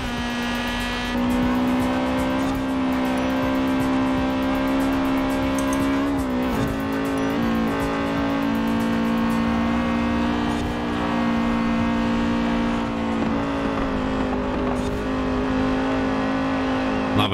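A Honda Civic VTEC engine in Forza Horizon 4 revs high and steady for a long stretch, a loud, droning buzz that dips briefly and climbs back, heard from the cockpit, with no talking.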